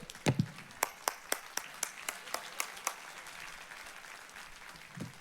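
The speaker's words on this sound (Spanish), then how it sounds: "Aplauda." A few members of a church congregation clap during a sermon by Pastor Juan Carlos Rosa, faint and sparse with about ten distinct claps in an uneven rhythm, then near quiet with low room murmur.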